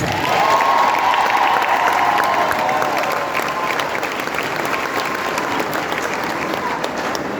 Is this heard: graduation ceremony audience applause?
yes